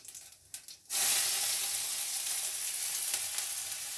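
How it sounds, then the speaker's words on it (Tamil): Carom seeds spluttering in hot oil in a kadai on a stove: a few faint crackles first, then a sudden loud, sustained sizzle and hiss that continues steadily to the end, with no talk. "ஸ்டவ்வில் கடாய் வச்சுருக்கேன், எண்ணெய் காஞ்சிடுச்சு. பாருங்கள், ஓமம் பொரிஞ்சிடுச்சு"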